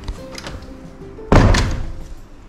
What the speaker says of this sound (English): Now let me close this door.